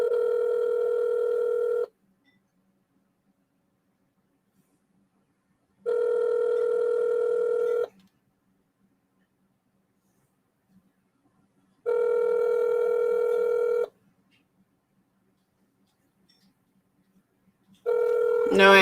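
An unanswered telephone call rings out as a sequence of evenly spaced, two-second electronic tones with long silent gaps between them, clear and steady through the earpiece, and a final ring cut short at the end.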